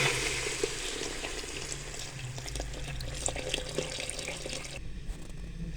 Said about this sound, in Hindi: इसमें यखनी जो हमने निकाली इसमें शामिल कर देंगे